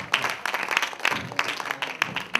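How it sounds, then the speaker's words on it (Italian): An audience at an Italian quiz show claps, giving brief, uneven bursts of applause with distinct individual hand strikes, fairly close and loud for a couple of seconds. "Un bel applauso era previsto qui."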